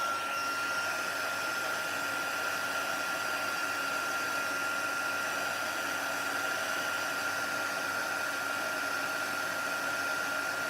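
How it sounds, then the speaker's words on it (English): A heat tool blows hot air over embossing powder in a steady, loud, continuous whir like a hair dryer, with no break or change in pitch throughout. "I'm going to bring in my heat tool and just melt that powder."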